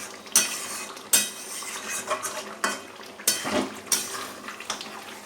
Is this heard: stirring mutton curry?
yes